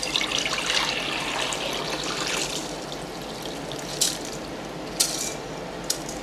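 Water draining from soaked purple rice through a sieve into a jug, a continuous close trickle and splash that gradually softens, with a few sharp clinks near the end.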